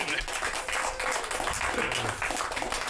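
At an improv comedy show, a live audience applauds a player after a scene ends, giving a dense, steady patter of clapping that continues under loud voices throughout.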